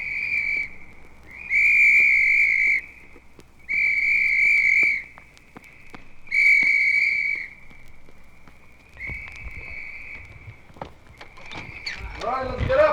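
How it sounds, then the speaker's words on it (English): At Air Force basic training, the reveille runner blows a shrill whistle in four loud, sustained blasts spaced a second or so apart, followed by fainter whistling under a voice. "The reveille runner's whistle and the sergeant's gentle waking voice."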